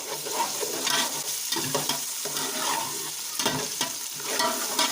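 Sliced onions fry in hot oil with whole garam masala, a steady crackling sizzle broken by repeated stirring scrapes of a spoon in the pot, close and fairly loud, no voices.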